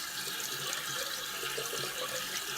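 Tap water running steadily into a sink while shaving brushes are rinsed, a continuous close hiss and splash with no talk.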